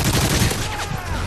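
A rapid burst of automatic gunfire rattles loudly in Call of Duty: Modern Warfare 3 multiplayer, dense and close over a short stretch.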